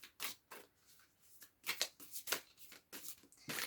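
Tarot cards being shuffled and drawn from a deck, giving irregular bursts of soft papery riffles and swishes with short pauses between them, close but quiet, with no voice.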